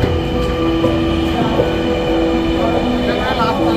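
A Dhaka Metro Rail train runs through a station with a steady rumble and faint wheel and rail noise, while a tonal whine drifts in and out and voices murmur around it.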